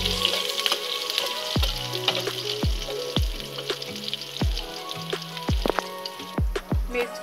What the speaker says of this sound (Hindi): मैं इसे इसका कलर ब्राउन होने तक भूनूंगी।